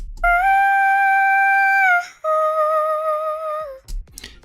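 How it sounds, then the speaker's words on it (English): An unprocessed vocal sample sings two long sustained notes, dry and clear, the second slightly lower, loud and alone. "So I took this vocal sample from Splice."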